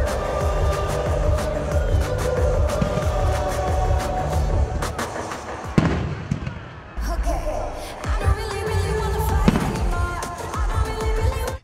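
Fireworks at a large outdoor festival make a steady barrage of loud bangs and crackles for over ten seconds, with brief lulls between the bursts.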